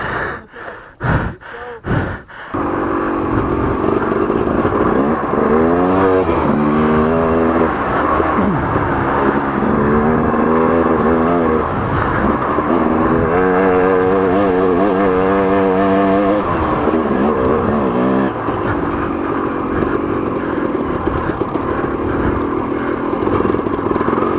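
Three KTM 300 two-stroke dirt bikes, one a 2004 build, clawing up steep off-road hill climbs, engines revving and bogging in loud, rising and falling bursts after a few sharp knocks at the start, continuous and close throughout.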